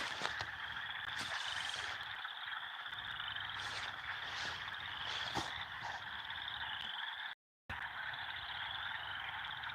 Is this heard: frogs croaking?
yes